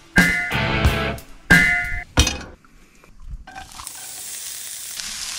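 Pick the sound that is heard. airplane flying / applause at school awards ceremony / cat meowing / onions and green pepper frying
onions and green pepper frying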